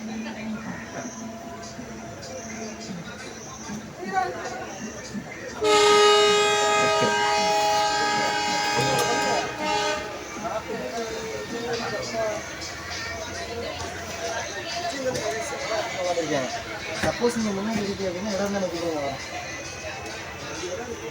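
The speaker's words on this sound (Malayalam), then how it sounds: "ഇപ്പോൾ തന്നെ ട്രെയിൻ യാത്ര തിരിക്കുന്നതാണ്" A train departing Pamban station sounds a long, loud horn of several seconds. Rail rumble and clatter continue afterward as the train moves off. Someone talks near the microphone before and after the horn.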